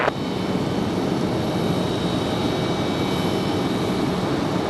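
Aeromexico Embraer E190 jet at Raleigh-Durham International Airport, a continuous broad engine roar holding steady and fairly loud throughout, with no voices.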